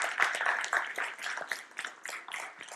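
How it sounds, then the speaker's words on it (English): A workshop audience gives a short burst of scattered clapping, close and fairly light, spread over a few seconds. "Give yourselves a round of applause."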